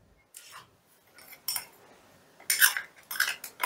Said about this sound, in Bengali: সর্ষে বাটাটা দিয়ে দিলাম।